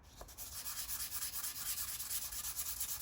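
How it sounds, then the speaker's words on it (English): Rapid back-and-forth rasping of fine-grit sandpaper on a block against a guitar body, a fast even rhythm of short scratchy strokes, close and fairly quiet, with no talking. "So I've got my own little pre-made sanding block."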